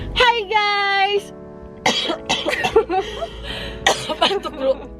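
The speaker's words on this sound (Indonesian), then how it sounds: "Batuk dulu." A person coughs and clears the throat several times at close range, with chuckling and a voice speaking in between.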